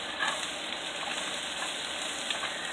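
Zucchini, squash and onions sizzling in a pan, a steady close crackling fry with occasional stirring scrapes.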